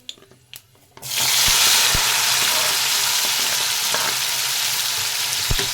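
A sudden loud burst of sizzling as chopped tomatoes hit hot oil with fried dried chillies, settling into a steady, close frying hiss with a few clinks of a utensil.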